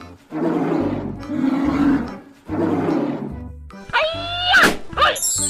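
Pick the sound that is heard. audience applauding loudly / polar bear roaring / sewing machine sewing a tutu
polar bear roaring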